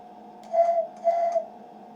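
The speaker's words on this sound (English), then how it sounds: "and I'll do the whistle first." Two short, bright electric-train horn blasts sound in quick succession from a Class 377 in the Train Sim World 2 game. The tones are steady and fairly loud.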